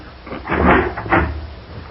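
A door is opened on an old-time radio comedy program, heard as a couple of dull wooden knocks and rattles close by over a muffled, lo-fi background.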